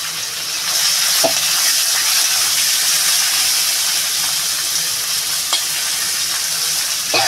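Ginger and onion fry in hot oil in a pan, a loud, continuous sizzle broken by a few brief clicks of stirring.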